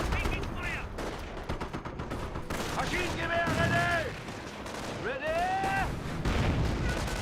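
Company of Heroes grenadier squad firing rifles and machine guns amid a wider battle, dense crackling bursts of gunfire mixed with distant booms and sweeping whistling effects, with game voices speaking over parts.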